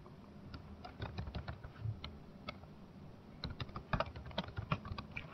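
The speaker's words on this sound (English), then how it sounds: "Here, I'm going to type the message," Fast, irregular clicking of keys as a message is typed on a computer keyboard, close and fairly quiet, in bursts with brief pauses and no voices.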